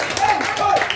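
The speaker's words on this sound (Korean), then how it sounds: "박수 한번 주세요." An audience at a Korean variety stage performance claps along loudly, the close applause mixed with tonal music or voices for about a second.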